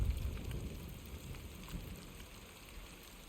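Rain falling in the game Ghost of Yōtei, a soft steady wash of rain on the ground with a faint low rumble, quiet and unbroken, no speech.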